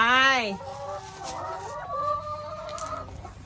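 Chickens cluck and squawk close by while eggs are being collected, one rising call followed by softer warbling clucks, with faint background noise.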